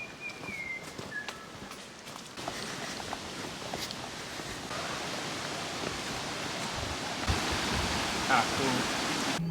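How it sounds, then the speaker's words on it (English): Water flowing down and spilling off the edge near a bridge on a hiking trail in the Gold Coast Hinterland, a steady broadband rush that swells louder in the second half, with footsteps and faint rustling nearby. "we come across a bridge with water flowing down and off the edge"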